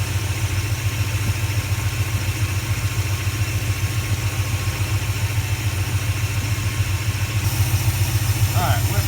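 A car engine fitted with a 4 barrel carburetor on a 2 barrel intake idles smoothly, giving a steady, close, low throbbing pulse that stays even throughout, with a brief voice near the end.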